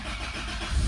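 A Honda Type R engine catching and starting up, a steady low rumble that swells louder near the end of the brief moment.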